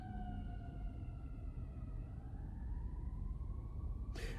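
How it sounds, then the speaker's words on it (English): A siren wails in the distance, its pitch slowly rising and falling, steady and faint beneath a low rumble of background noise. "That's a siren in the background."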